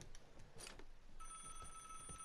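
A phone in the video game Vigor rings faintly with a steady, thin trill that begins midway, set against soft background noise and a few footfalls.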